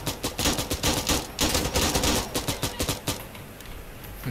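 Rapid bursts of automatic gunfire in the video game Insurgency Sandstorm, dense and loud, with shots crackling in quick clusters that thin out toward the end.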